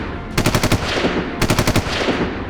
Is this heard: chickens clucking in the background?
no